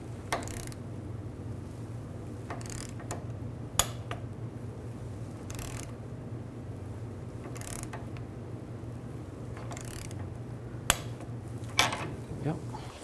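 Wrench and 14mm socket tightening a sway bar link nut on a 2002-06 Chevy Avalanche, a series of quiet, irregular metallic clicks and ratcheting taps against a low steady background hum.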